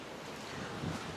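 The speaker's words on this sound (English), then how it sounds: "I hope the audio is good. It's very, very windy." Strong wind gusting at a boat ramp, a steady roaring rush buffeting the microphone with no break, loud and close.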